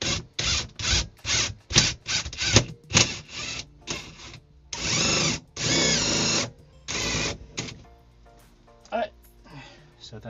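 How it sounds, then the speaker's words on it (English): A power drill drilling a hole in wood whirs in repeated short bursts, then a few longer runs, close and loud, with occasional talk between. "I'm gonna drill the next hole also"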